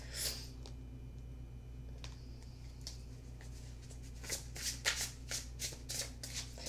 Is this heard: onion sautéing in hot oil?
no